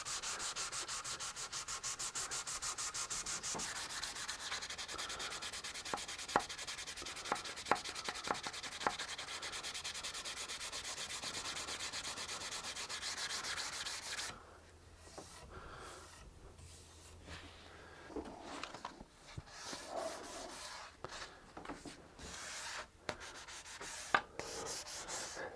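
A guitar neck is sanded by hand with 400-grit wet and dry sandpaper, a steady close rasping rub with quick rhythmic strokes, then softer, more scattered scrubbing and scraping as the final pass continues.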